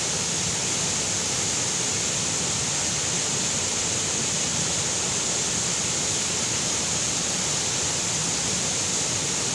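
Waterfall pouring down near a check post in Idukki, a dense, steady roar of rushing water that fills the scene without pause.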